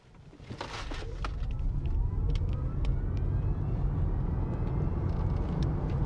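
A Kia EV9 Earth trim electric SUV accelerates hard in sports mode, a steady rising road and motor roar building over the first two seconds, then holding loud and even with a faint whine sweeping upward.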